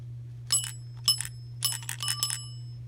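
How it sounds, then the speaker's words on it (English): An old elevator bell with a replaced clapper rings in several short bursts of bright, metallic strikes, with a steady low hum underneath. "An old bell."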